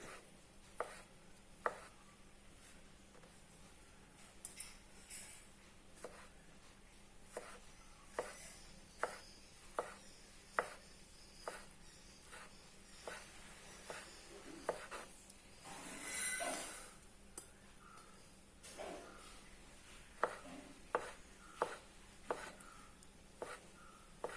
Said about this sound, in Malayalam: ചെറുതായിട്ട് നമുക്ക് ഇങ്ങനെ അരിഞ്ഞെടുത്തിട്ട് വേണം ചെയ്യാൻ